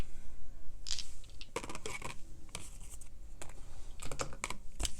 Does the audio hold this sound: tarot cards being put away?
yes